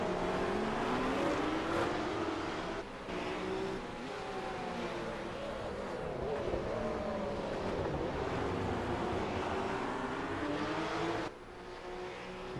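GT race cars lap the Long Beach street circuit, a continuous blend of engine drone and passing cars with rising and falling pitch sweeps, heard from a distance with crowd-like wash and no talk.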